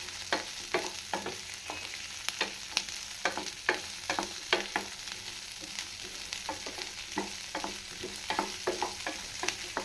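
Onions fry in a pan for a cauliflower gravy, a soft continuous sizzle broken by a steady run of scraping spoon strokes as they are stirred, close and quiet with no voices.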